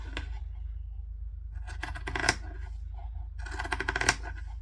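Zigzag scissors snip through a thick fabric seam on a bucket bag, giving two close bursts of crisp, crunchy cutting separated by a quiet pause, fairly near over a low steady background hum.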